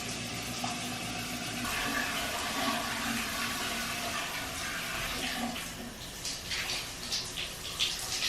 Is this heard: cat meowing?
no